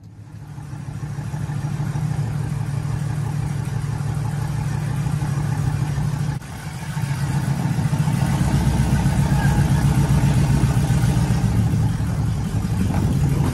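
A 1957 Chevy engine fires up and runs on a steady, loud idle, then after a brief dip revs harder with a rough, pulsing throttle, close by and with no one talking over it.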